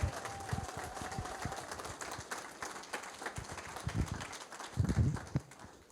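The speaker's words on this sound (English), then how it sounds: "Let's give him a big, big round of applause, our president, Mark Buell." An audience at an outdoor park award ceremony claps for the park president, a steady patter of many hands at moderate distance, fairly quiet, swelling slightly near the end.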